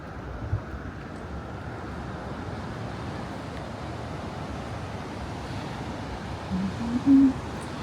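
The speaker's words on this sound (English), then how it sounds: "I specifically didn't put my fuzzy mic on because I want you to hear the waves." Ocean waves washing ashore at Blue Mountain Beach, Florida, heard as a steady, broad surf roar with wind buffeting an unshielded microphone, continuous and fairly loud, with a brief louder gust near the end.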